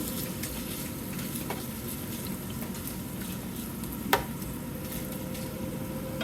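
Garden greens, Chinese kale and Cantonese greens, stir-fried with pork in a pan, giving a steady close sizzle with light stirring scrapes and one sharp utensil clank partway through, no talking.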